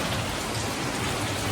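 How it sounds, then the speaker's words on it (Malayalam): Heavy rain pours down at a hillside resort in Kakkadampoyil, a loud, unbroken hiss of drops hitting surfaces close by, with no one speaking. "നല്ല മഴയാണ് കേട്ടോ നല്ല ഒരു രക്ഷയില്ലാത്ത മഴ"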